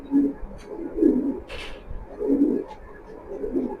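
Racing pigeons coo in soft, low, repeated phrases at a steady rhythm, close by and fairly quiet, with a brief flutter or rustle in the middle and no talk.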